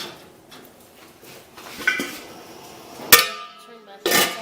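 Glass canning jars of blood orange marmalade clink and knock against the metal rack and pot as they are lowered into a water bath canner, a few sharp clatters standing out over quiet kitchen background.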